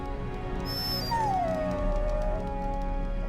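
A dog whimpers in Dragon Age Origins, a thin high whine sliding downward into a drawn-out plaintive cry, over steady ambient game hum.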